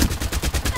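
Rapid automatic gunfire from the Farlight 84 video game, a close, loud burst of evenly spaced shots firing in quick rhythm for under a second.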